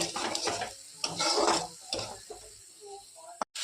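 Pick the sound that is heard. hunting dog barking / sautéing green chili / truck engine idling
sautéing green chili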